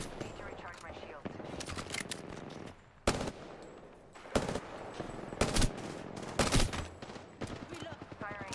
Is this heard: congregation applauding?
no